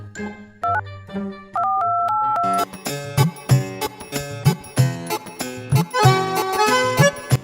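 Touch-tone keypad beeps dial a number, then a phone call rings out as a loud, rhythmic ringtone melody that repeats steadily.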